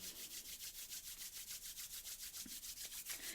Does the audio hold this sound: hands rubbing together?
yes